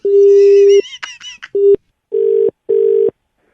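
A telephone handset gives a steady dial tone, then a quick run of keypad beeps, followed by two further short, evenly spaced tones, all loud and clear with no one speaking.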